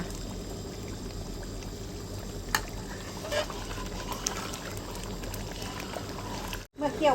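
Coconut milk simmering and reducing in a wok, a faint steady bubbling hiss with occasional soft clicks and a brief dropout near the end.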